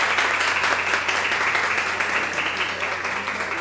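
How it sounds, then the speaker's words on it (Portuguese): Dense, steady applause from an audience at a casual sexuality talk held in a coworking space, many hands clapping together at an even, loud level throughout with no break. "aí eu queria as palmas"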